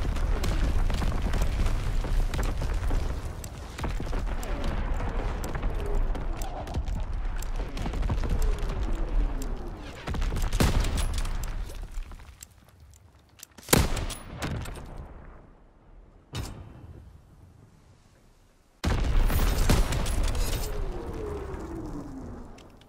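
An artillery barrage in Call of Duty: WWII on PS4 rolls through as repeated booming blasts and gunfire bursts, loud and dense, with brief lulls and sharp individual impacts between heavier stretches.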